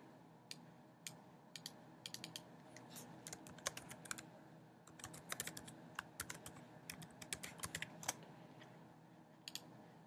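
Quick bursts of typing on a computer keyboard, close and quiet, with irregular clusters of key clicks and short pauses between them, and no talking.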